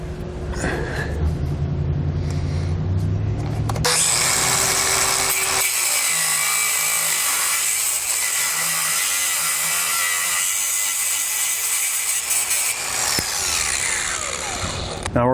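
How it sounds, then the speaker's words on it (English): A cutting wheel grinds through a protruding bolt on a 2013 Ford during an Air Lift LoadLifter 5000 helper spring install, a loud high whine starting after a short spin-up and running steadily for about ten seconds, with someone speaking briefly. "I'm just going to use a cutting wheel."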